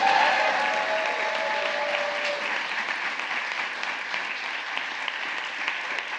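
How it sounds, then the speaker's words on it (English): A crowd claps steadily at a presidential bill signing in Washington, D.C., dense sustained applause filling the room, with a faint voice trailing off at the very start. "You can clap for that because this lady did."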